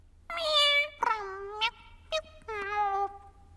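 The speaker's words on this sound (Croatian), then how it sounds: "To je Jess. Mjauče u mikrofon." A cartoon cat meows into a microphone: a long, clear meow, followed by several shorter, sharper mews and then another drawn-out meow, loud and close.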